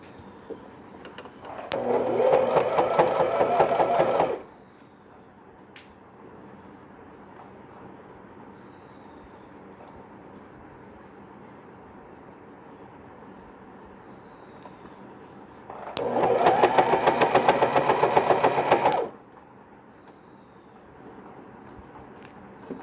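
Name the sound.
sewing machine stitching banian cloth baby cap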